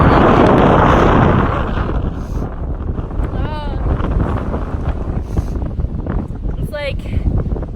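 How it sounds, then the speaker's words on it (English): Strong morning wind buffets the microphone outdoors on a long-distance hiking trail, heavy roaring gusts at first that ease into lighter rumbling bursts, with a voice speaking intermittently over it. "It's very windy this morning."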